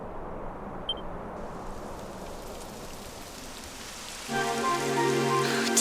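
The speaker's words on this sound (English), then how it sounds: "It would have to go and start raining, wouldn't it?" Rain falls in Dragon Quest 11, a steady soft patter on surfaces, joined late by a swell of tonal game music over the downpour.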